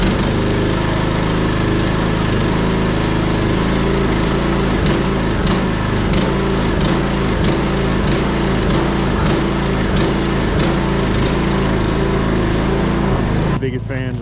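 A lawn tractor engine idles and warms up, loud and close, with a steady drone and regular pulsing throbs before it cuts off near the end.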